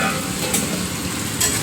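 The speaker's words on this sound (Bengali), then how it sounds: "আলুগুলো দিয়ে মাংসটাকে ভালোভাবে কষাতে হবে।" Chicken and fried potatoes stir-fried together in a pan, a steady close sizzle with occasional brighter scraping bursts as the pieces are turned, no voices.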